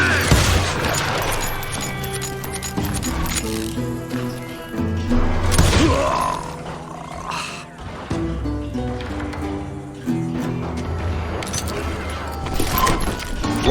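Gunfire in the Call of Juarez Gunslinger video game, with several sharp bangs standing out over a continuous game music and effects bed, including a cluster of shots partway through.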